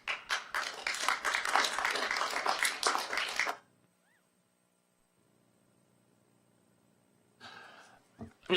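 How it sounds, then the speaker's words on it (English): An audience at a Colwood city council meeting claps in a burst of dense applause lasting a few seconds, then the room falls nearly silent before some faint shuffling and noise return. "I'm just going to ask the audience not to either clap or boo."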